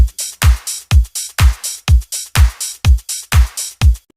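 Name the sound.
drums in a piano house track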